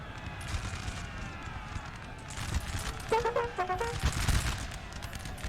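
Musket volleys crack out in a Napoleon: Total War multiplayer battle, a ragged burst of massed gunfire rolling over a battlefield din, with louder clustered shots toward the end.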